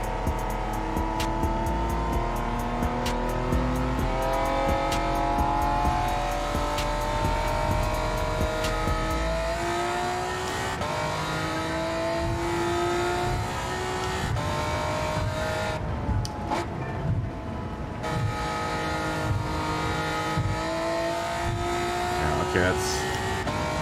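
A race car in Gran Turismo 7 revs hard toward its redline around 8,000 RPM, the engine note climbing repeatedly through gears with a sustained loud drone, while a person talks over it.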